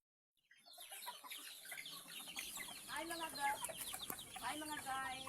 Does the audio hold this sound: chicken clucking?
yes